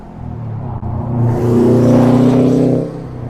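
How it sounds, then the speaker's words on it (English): Morning road traffic rolls past up close, a car engine swelling into a loud steady rush of tyres and motor before easing off. "a lot of cars out here. Good old morning traffic."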